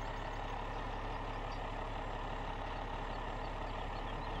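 Kenworth W900 truck engine idling in Farming Simulator 17, a steady low diesel rumble that holds constant and close with no talk over it.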